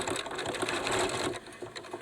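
A sewing machine runs in short continuous bursts as it stitches a pleated fabric face mask, its rapid close mechanical whir rising and pausing briefly near the end.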